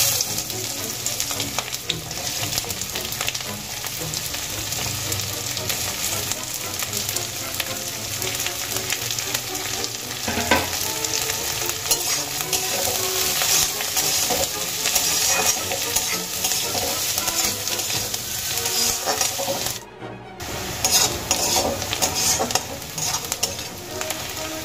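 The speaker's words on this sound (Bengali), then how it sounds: "সবশেষে আমি ভেজে নেব দুটো বড় সাইজের কুচি নেওয়া পেঁয়াজ।" Two large chopped onions fry in a pan with a dense, unbroken sizzle. Frequent stirring scrapes run throughout, with a short pause near the end before the hissing resumes.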